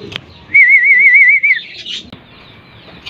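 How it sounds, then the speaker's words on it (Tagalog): A homing pigeon returns to its loft, with a burst of wing flapping and a steady bright whistling tone as it comes in to land, close and fairly loud, then quieter rustling afterward. "kaya dumating yung ating panlimang ibon"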